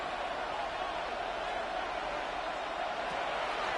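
A simulated stadium crowd in the Madden 26 football game roars steadily on third down in a Packers vs Seahawks wild card matchup, a broad continuous wash of crowd noise.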